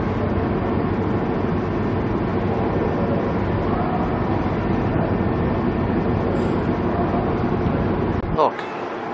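Broad, steady rumble of the Spirit of Queensland train standing at a Brisbane station, a constant low drone with hiss lasting throughout before cutting out abruptly near the end.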